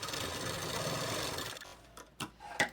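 A sewing machine runs a steady, fast stitching whir for about a second and a half while sewing the side seam of a blouse, then stops, followed by a few sharp clicks and taps.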